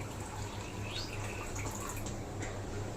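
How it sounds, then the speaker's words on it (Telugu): Tap water pours into a container in a steady, moderately loud stream, with a low hum and no speech. "ఇప్పుడు నేను ట్యాప్ ద్వారా పడుతున్నాను చూడండి"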